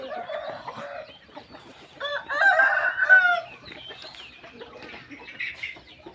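Pa Koi chickens cluck steadily throughout, with a rooster crowing loudly in the middle; a busy farm flock close by, no talking.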